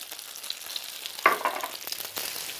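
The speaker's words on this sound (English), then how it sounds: "Fry them on both sides until golden brown." Bohemian dumplings frying in butter in a pan, a soft steady sizzle with brief louder crackles and stirring bursts partway through, close and alone without talk.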